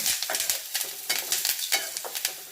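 Dried red chillies and curry leaves dry-roasting in a pan at a village cooking setup, with a steady crackle and repeated scraping stirs of a spatula, close and moderately loud, with no voices.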